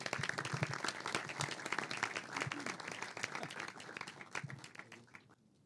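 Audience applauds the editor of a film at a post-screening Q&A, steady dense clapping that fades out near the end, with faint voices mixed in.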